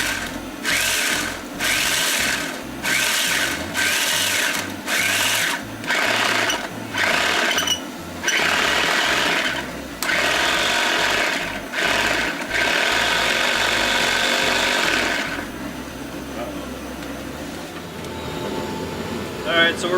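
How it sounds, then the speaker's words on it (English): Loud, rapid mechanical grinding of coffee beans in repeated bursts, pausing briefly between runs, then fading into quieter background noise. "So we're going to grind our coffee up"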